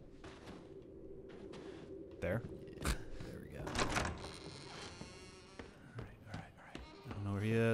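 Scorpion door in Resident Evil 7 grinding and clanking open as a mechanism, with several sharp metallic knocks and a rising rumble, a brief spoken word near the start, and music entering at the end.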